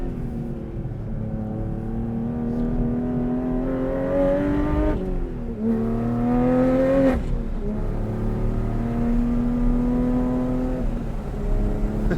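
A sports car engine on a race track pulls hard through the gears up to fifth, its tone climbing, dropping sharply at each upshift and climbing again, loud and close with no voices.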